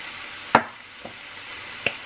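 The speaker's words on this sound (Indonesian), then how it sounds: "kita tambahin sedikit air dan kita campur lagi" A utensil scrapes and clinks in a pan while stirring homemade fried noodles, mie goreng rica-rica, with three distinct knocks, the first loudest, over a faint background.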